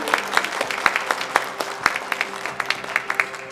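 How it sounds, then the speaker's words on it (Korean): An audience at an opening ceremony for an international photonics industry exhibition and conference applauds the mayor's welcome, with steady clapping and sharp individual claps standing out near the listener. "광주광역시 이용서 시장님을 따뜻한 박수로 환영해 주시기 바랍니다"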